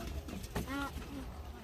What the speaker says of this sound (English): look, a bird